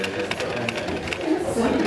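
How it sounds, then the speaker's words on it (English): A sewing machine stitches a homemade tarp in short runs, its fast mechanical chatter stopping and starting as the needle drops and the fabric pivots, under a person talking close by. "Drop the needle, pivot, come back up."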